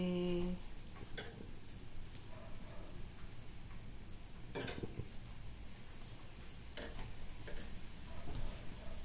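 Ghee sizzling on a puran poli flatbread in a hot pan, a steady close crackling fry with scattered pops and ticks running throughout, heard alone without talk.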